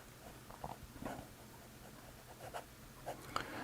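Fountain pen nib (Asvine V126 or Wing Sung 699) writing reverse side up on paper, heard as soft, close scratchy strokes in short intermittent bursts over quiet low background hum, with no talking.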